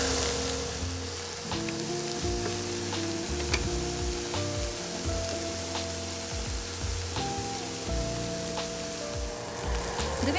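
Tofu pieces sizzle and fry steadily in a hot oiled pan, with a continuous bright crackle and occasional clunks and scrapes as the pieces are turned over, close and loud with no talking.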